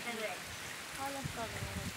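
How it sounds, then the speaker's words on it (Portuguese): Rain falls steadily on a house surrounded by plants in Brazil's Northeast, a continuous soft hiss with faint voices drifting in now and then. "a chuva tá vindo ali já de novo, parece."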